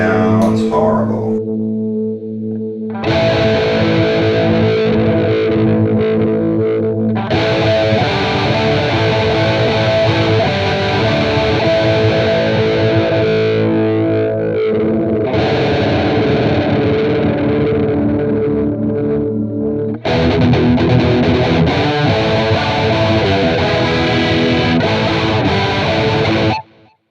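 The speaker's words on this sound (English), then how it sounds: "I've never come across a flanger that is less usable than the one in the quad Cortex" Distorted electric guitar chords played through the flanger on a Neural DSP Quad Cortex with depth and feedback at maximum, a harsh, resonant, hollow sweeping tone over several strummed passages separated by brief pauses, loud and close with no talk.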